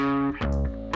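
Synth part driven through a Waves One Knob Driver distortion plugin in a Tame Impala style production, heard as loud, saturated sustained tones with a gritty edge and a brief change of note partway through.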